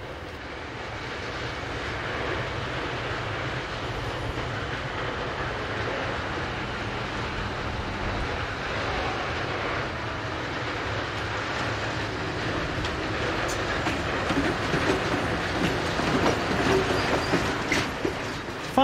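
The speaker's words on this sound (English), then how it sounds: "Finally, after a loco failure, this class M62 has been placed at the front of this passenger service for Miskolc." A class M62 diesel locomotive heads a passenger train bound for Miskolc in Hungary, its steady broad engine drone and rolling rumble continuous throughout, growing slightly louder toward the end with no talk.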